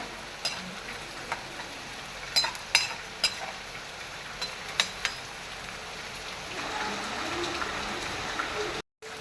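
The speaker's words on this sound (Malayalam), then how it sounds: "എല്ലാവരും ഇങ്ങനെ മുളക് മൂപ്പിച്ചിട്ട് ഇതുപോലെ ഉള്ളിയൊക്കെ മൂപ്പിച്ചിടണം" Chilies and onions frying in hot oil for a Kerala-style jackfruit seed and amaranth stem curry, a steady close sizzle with scattered sharp pops and crackles, growing a little denser toward the end.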